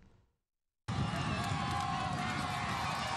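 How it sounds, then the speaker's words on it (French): Dense, loud street crowd in Abobo cheering and clamoring to welcome President Alassane Ouattara at an inauguration, bursting in suddenly after a brief quiet start and holding steady. "C'est une foule en liesse qui a accueilli le président Ouattara lors de cette inauguration."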